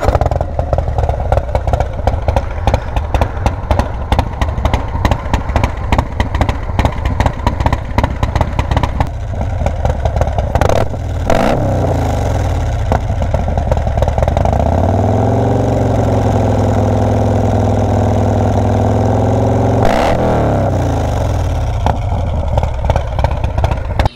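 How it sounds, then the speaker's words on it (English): Harley-Davidson Milwaukee 8 Road Glide with a Bassani mid-length exhaust and S&S 475 cam, warmed up, idling loud and close with a lumpy, uneven lope, then briefly blipped and revved before settling back to a steady idle, no talk. "we'll cut to how this bike sounds on startup"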